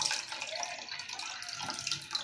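Water drains steadily from a pot of soaked lentils for dal vada, a continuous close splashing trickle with no talk.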